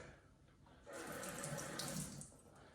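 Water runs from a faucet for about two seconds, a soft splashing rush that starts abruptly and fades out, with no talking.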